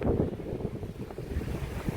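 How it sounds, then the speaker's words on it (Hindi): Strong wind gusting outdoors during a storm, a loud, steady low roar with buffeting pulses against the microphone throughout. "क्या हवा चल रही है।"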